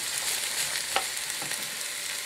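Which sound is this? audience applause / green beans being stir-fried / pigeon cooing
green beans being stir-fried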